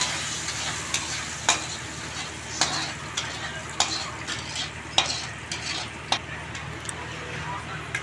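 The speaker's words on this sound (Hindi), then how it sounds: "अब देखिए इनको तला जा रहा है लहसुन डाल के तेल में" Garlic frying in hot oil for an arbi leaf dish, a steady close sizzle with regular ticks and scrapes from stirring all the way through.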